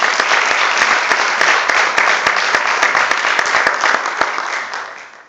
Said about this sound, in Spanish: ¿Por qué no le da un aplauso esta noche al Señor?